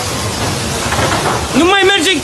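A violent storm hits Bucharest with heavy rain pouring in a dense, loud roar and a deep rumble, while a voice speaks over the downpour near the end.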